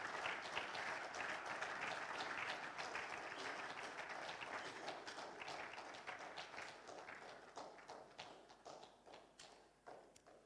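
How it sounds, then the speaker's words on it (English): Applause fills a ceremony hall, dense clapping that stays steady for several seconds, then thins and fades toward the end. "with a round of applause, we invite Major General Henry Kwame Anyidoho."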